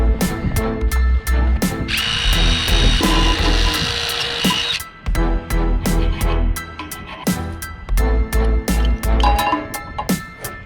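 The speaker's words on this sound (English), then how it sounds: "I'm gonna get my wire wheel. We're gonna clean up this shaft." Wire wheel spun on a power tool to clean a Lennox rooftop unit blower motor shaft, loud whirring bursts with repeated starts and stops and a harsh scraping stretch in the middle.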